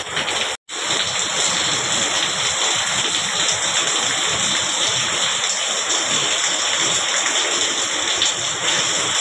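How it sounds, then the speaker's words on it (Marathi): Heavy rain pours steadily as a broad, even wash of noise, loud and close throughout, with one very brief dropout near the start and no voices. "पाऊस जोरात चालू आहे एकदम"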